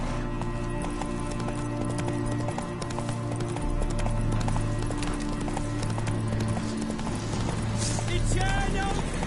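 Rhythmic hoof clip-clop of a horse trotting in The Witcher video game, steady and continuous over a droning game soundtrack, with a brief neigh.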